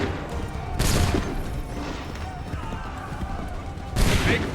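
Musket volleys ring out in an Assassin's Creed 3 Remastered battle: two loud, sharp bursts of massed gunfire crack over a steady rumble of battlefield noise.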